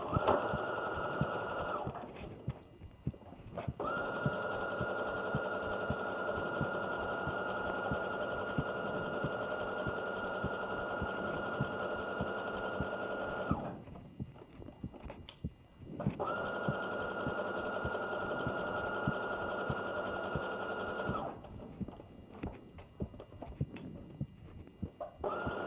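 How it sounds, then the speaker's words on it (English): A sewing machine runs a 5/8-inch seam in regular-length stitch on a slip dress, whirring steadily in three long bursts separated by short pauses, close and alone. "I am sewing using 5/8 of an inch seam allowance, regular length stitch"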